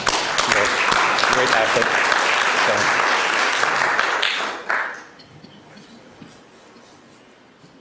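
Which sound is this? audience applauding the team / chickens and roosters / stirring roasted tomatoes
audience applauding the team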